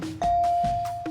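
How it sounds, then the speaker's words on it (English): A quiz show bell ends the head-to-head round of a high school quiz competition, ringing as a bright sustained ding-dong tone with clear strikes, loud and alone. "that's the bell that ends the head-to-head round"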